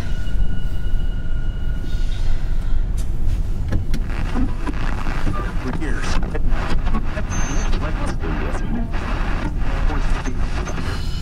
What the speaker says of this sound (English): Somebody driving through the woods.